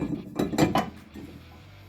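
Brake rotor being pulled off a Toyota RAV4 hub, giving a few quick metallic clanks and scrapes in a short burst, followed by quiet shop background.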